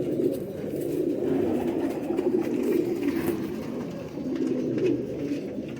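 Rampuri pigeons coo in a low, continuous, burbling chorus close by, a steady warm murmur with no voices over it.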